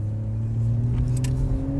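De-catted BMW M140i with a straight-six engine revs loudly and close, a deep steady exhaust drone with rising harmonics that climb gradually through the clip, no talking over it.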